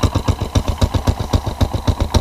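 A Honda TRX400 4x4 ATV engine idling nearby, a loud, steady thumping putter with evenly spaced rapid pulses and no voices.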